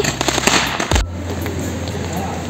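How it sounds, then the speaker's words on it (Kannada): Firecrackers go off at a New Year 2024 celebration near a university in China, a dense crackle of rapid pops and bursts up close, with voices in the background. "ಇಲ್ಲಿನೂ ಪಟಾಕಿ ಹಚ್ಚಿದ್ದಾರೆ ನೋಡಿ."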